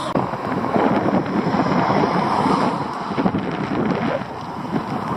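Strong wind off the mountains and sea rushing and buffeting the microphone in a continuous roar, loud and close, with no talking.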